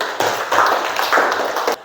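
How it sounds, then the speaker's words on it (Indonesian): A classroom of students breaks into a short burst of applause, close and fairly loud, with dense rapid claps that swell and ease in a couple of quick waves before stopping sharply. "Tepuk tangan dulu"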